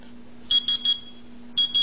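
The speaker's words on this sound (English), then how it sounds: "you lay it on the actual 20, go back and forth, and it beeps" A handheld counterfeit money detector beeps as it passes over the magnetic ink of a 20 dollar bill, giving a quick run of three high beeps and then two more after a short pause, over a faint steady hum.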